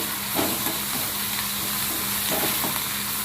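Okra sautéing in a pan for chutney gives a steady, close sizzle that fills the whole stretch, with a few soft stirring scrapes over it and no talking.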